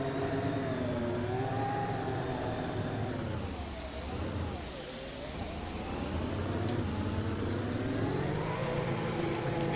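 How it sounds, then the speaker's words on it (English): Ferrari SF70H 2017 Formula 1 car in the Assetto Corsa racing game, its engine droning and revving steadily with a dip and rise in pitch midway, continuous and fairly close, with no talk. "let's punch up first gear, bring up the revs a bit, and let's drive this 2017 Works Ferrari SF70H"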